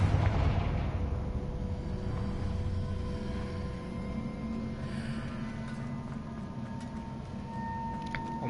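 A Confringo fire spell blasts in Hogwarts Legacy, a deep rumbling explosion that opens loudly and then rolls on as a sustained low roar with crackling debris for several seconds.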